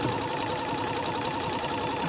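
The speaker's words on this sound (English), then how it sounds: "I'm going to zigzag the lace panel together." A sewing machine zigzag-stitches a lace panel to an entredeux band while lengthening a dress, running as a steady, fast, even mechanical whir close by with no pauses.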